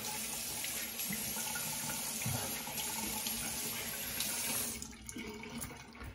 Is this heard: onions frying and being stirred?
no